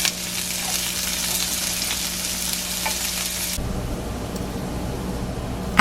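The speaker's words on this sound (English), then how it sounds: "So we're going to put those in first and saute those for a bit." Carrots sautéing in a pan make a steady hissing sizzle up close that drops abruptly partway through to a quieter, lower simmer, with no talking.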